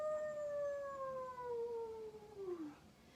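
A person imitates a werewolf howl with one long, loud, sustained wavering vocal tone that slowly falls in pitch and trails off, echoing in a room during a yoga session.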